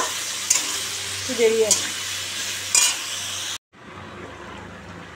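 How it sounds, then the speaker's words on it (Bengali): Papaya curry stirred in a pan, a steady sizzle with spoon scrapes and a couple of clanks, close up, as someone speaks briefly before it cuts off. "এখন পেঁপের তরকারি করছি আমি"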